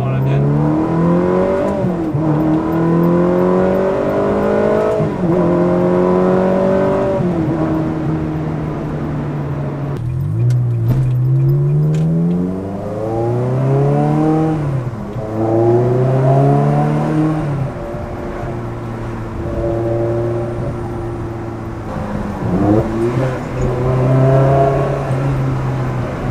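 Ferrari 360 with reprogrammed F1 gearbox, engine revving loudly up and down with repeated rising pulls and throttle blips on downshifts, heard close from inside the car.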